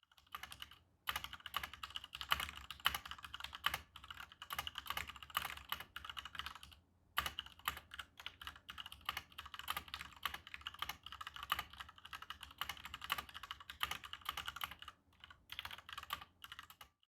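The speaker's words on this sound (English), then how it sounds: "I'll show a little typing test that I did so you can get a better understanding of how they sound" Continuous clacky typing on a mechanical keyboard fitted with HK Gaming Pudding keycaps, fast and even, with a couple of brief pauses; close and clear, no talking.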